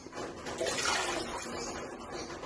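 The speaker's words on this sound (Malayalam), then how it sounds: "അല്ലെങ്കിൽ നമുക്ക് വെള്ളം ഒഴിച്ച് കൊടുക്കാം." A brief, soft pour of water splashing into a pot, swelling then tapering over a couple of seconds, fairly quiet and close.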